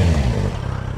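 A motorcycle idling with its rebuilt exhaust line, a steady low rumble held close and loud for the full second, with no clacking or rattle breaking through.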